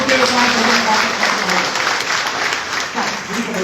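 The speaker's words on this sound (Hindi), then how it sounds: "तालियां ठोक के" Audience applause filling a hall, dense steady clapping that holds loud throughout, with a voice speaking over it at a ceremony congratulating a candidate on his success.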